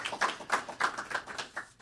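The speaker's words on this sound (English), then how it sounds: "Hey, you can clap, it's okay." A small group claps in brief, uneven bursts, fairly close and moderately loud, with no one speaking over it.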